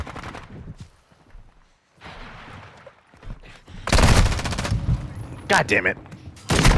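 Gunfire in a Call of Duty Modern Warfare 2 multiplayer match: scattered shots and quieter game noise at first, then loud rifle bursts and fusillades dominate the second half, while a player's voice swears partway through.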